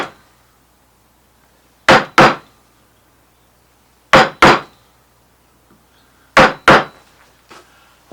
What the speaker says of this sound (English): So that's the chisel work along the margins.